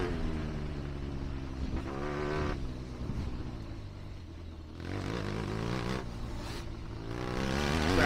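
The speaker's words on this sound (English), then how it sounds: "Trickett will be able to hear the CR500 all over him now." Big-bore Honda CR500 two-stroke dirt bike racing uphill in a race against a Triumph, its engine droning loud and steady with rising and falling revs throughout, no talking.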